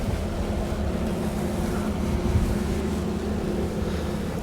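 Wind gusting across an open fishing lake, a constant loud roar buffeting the microphone with a low rumble throughout, with no talk.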